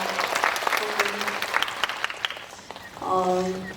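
Dense audience applause fills a cinema during a live star talk event for the film Tune in for Love at CGV Yeongdeungpo, clapping steadily then thinning, with a voice speaking over the end.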